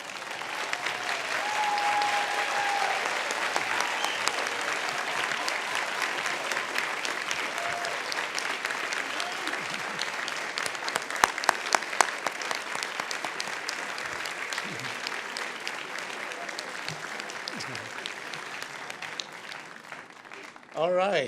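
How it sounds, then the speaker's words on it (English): A large audience at a graduation hooding ceremony gives sustained, dense applause for about twenty seconds, heavy and even throughout before tapering off, with faint voices and cheers mixed in. "everyone please rise and join with me in applauding your spouses, families, friends, and loved ones for their support on your journey to this day"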